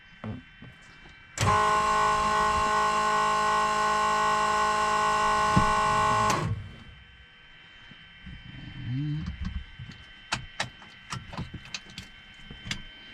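An electric fuel pump in a small airplane is switched on before engine start. It gives a steady, close, buzzing whine for about five seconds and then cuts off, followed by quiet rustles and scattered clicks in the cockpit.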